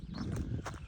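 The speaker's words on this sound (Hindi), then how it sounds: "ये बहुत ही डिफ़िकल्ट घोड़ा है हैंडल करने में" Horse hooves clip-clop on a busy night street in Almaty's Arbat area, a short quick run of hoofbeats close by over crowd and street noise.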